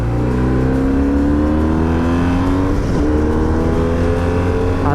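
A 1989 car engine with a Haro Dakar-edition exhaust line revs steadily and loudly up close, its rising droning pitch dipping briefly mid-way before climbing again, with no talk over it.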